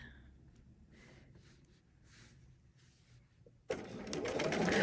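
A sewing machine stitches a dark fabric in short quiet bursts, then runs louder and continuously near the end.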